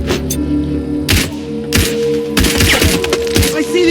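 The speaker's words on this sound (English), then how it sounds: "I'm listening to gunshots here!" Gunfire from the sniper video game Sniper Ghost Warrior Contracts 2, with several loud, sharp shots at irregular intervals over a steady in-game hum and faint background clatter.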